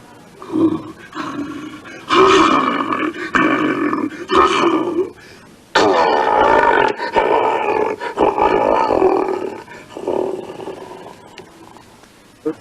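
A cartoon bear in a Mickey Mouse short lets out a series of loud growling roars in repeated bursts, close and raspy, separated by brief pauses.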